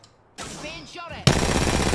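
Gunfire in the video game Apex Legends: after a brief stretch of game sound, a loud, dense burst of rapid shots starts abruptly and keeps rattling to the end.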